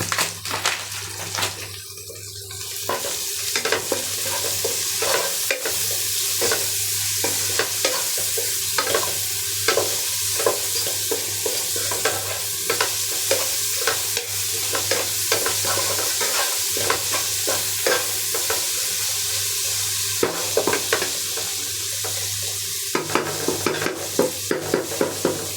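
Onions and chilies salted and frying in a pan, a steady close sizzle broken by frequent sharp scrapes and clinks of a spoon stirring, repeated irregularly throughout with no talking.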